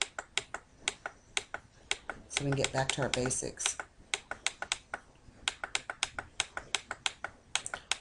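Rapid mouse clicks repeat in a steady stream while undoing edits on a computer, with a brief burst of speech partway through interrupting the clicking.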